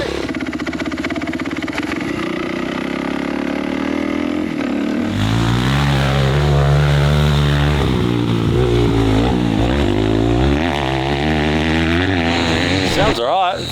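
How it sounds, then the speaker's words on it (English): A small 250cc four-stroke motorcycle engine idles steadily, then revs up and down in loud surges before settling again, heard up close. "The thing sounds pretty decent for a little 250 4-stroke."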